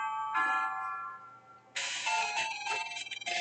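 A school bell chime in the video game Mega Man Battle Network 2, a clear electronic multi-tone melody ringing out alone, one phrase followed by a brighter second run of notes.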